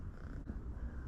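A shop cat in a garage purring softly and steadily for about a second, close by and quiet, with no other sounds.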